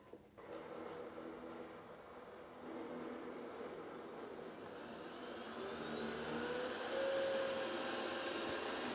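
An Ecovacs Deebot X11 OmniCyclone robot vacuum runs at maximum suction, a steady close whirring drone that climbs in pitch and grows slightly louder, with no talk.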